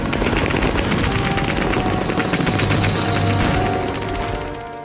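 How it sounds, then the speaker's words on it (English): Sustained rapid machine-gun fire from the crew of the battleship Tirpitz shooting at a surfaced midget submarine, a loud continuous rattle of shots that fades slightly at the end. "upon surfacing, the crew of the Tirpitz opened fire"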